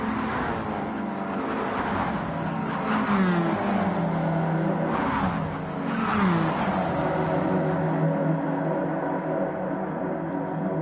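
Stock race cars in a tight pack roar around Daytona in the Gran Turismo 7 racing game, with a continuous loud engine drone and rising and falling pitch sweeps as cars pass, no talk.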